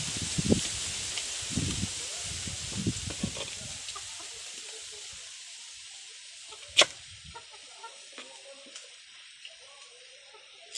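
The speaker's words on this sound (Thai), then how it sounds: "โอ้ฝนลงมาแล้ววันนี้" Rain begins to fall outdoors as a steady broadband hiss that runs throughout, with a few soft thumps and rustles early on and one sharp tap near the middle.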